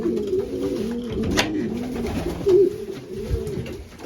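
Racing pigeons coo in a loft at feeding time, a low rolling burbling repeated several times at close range over a steady background hum, with no talking.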